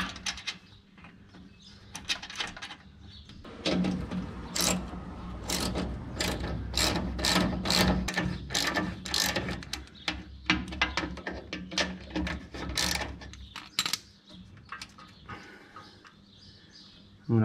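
A hand ratchet tightens nuts under the body of a 1951 Chevy Fleetline Custom during inner sheet metal installation, giving long runs of close, crisp clicking with short pauses between strokes.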